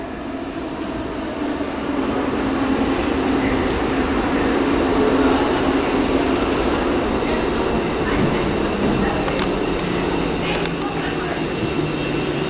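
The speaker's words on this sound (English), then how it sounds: "the very final train in this video arriving is the 12:39 ScotRail service from, to Edinburgh" A ScotRail class 334 electric train running into Glasgow Queen Street station, a steady loud rumble and hum of wheels and motors that builds slightly and holds for the whole stretch, with faint station ambience and a few distant voices.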